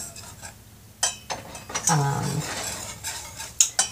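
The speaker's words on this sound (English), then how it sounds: "you just keep stirring it and watching it until it is clear and it has dissolved" A utensil stirs a Moroccan beldi soap mixture with argan oil in an aluminum pot, making sharp metallic clinks and scrapes in irregular bursts, close and fairly loud, between quieter pauses.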